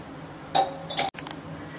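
Metal spoon clinking against a cooking pan over a low flame while stirring, two short bright scraping clinks followed by a few lighter taps, fairly close.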